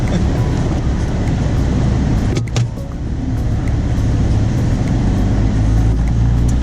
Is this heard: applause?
no